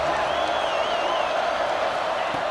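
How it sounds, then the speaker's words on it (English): Stadium crowd cheering in EA Sports College Football 26, a dense, continuous roar of many voices with a whistle-like tone riding on top, steady and loud throughout. "Listen to the crowd energy here in the early going."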